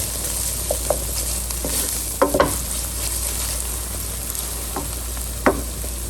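Garlic and red pepper flakes sizzle in a pan with a steady, close frying hiss, broken by a few soft clicks and scrapes as they are stirred.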